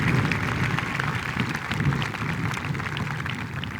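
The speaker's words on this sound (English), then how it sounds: "Let's give her a round of applause." Steady, dense clapping from a crowd at a high school graduation ceremony, sustained at even loudness throughout with no voices standing out.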